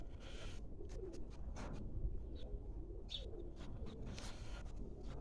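Pigeons coo softly in a backyard coop shared with rabbits and chickens, low murmuring calls repeating faintly over a steady background hiss and scattered small clicks.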